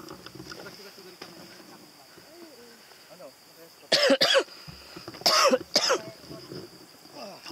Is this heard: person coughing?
yes